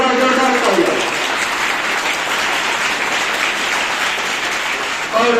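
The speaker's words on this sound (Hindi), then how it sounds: "एक बार जोरदार तालियां" A crowd at a Veer Bal Diwas storytelling event breaks into loud sustained applause, dense clapping that fills the clip between bits of a voice at the start and end.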